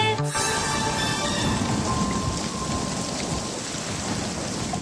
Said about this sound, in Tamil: மழையும் காற்றும் சேர்ந்து வந்துருச்சு